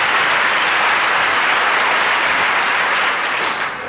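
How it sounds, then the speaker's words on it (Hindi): Audience applause at a satsang held inside a jail, a dense, loud wash of many hands clapping continuously that eases off slightly near the end. "होलसेल में बजा लो एक ताली"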